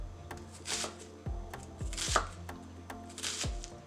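Knife chopping onions on a cutting board for Caribbean cornmeal fried bakes with corned beef, a series of about eight close, crisp thuds at an uneven, unhurried rhythm over quiet background, with no talking.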